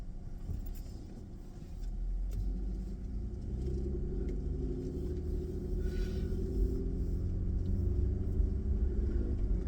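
Car driving along a road, a steady low engine and road rumble heard from inside, continuous and moderately loud with no talking.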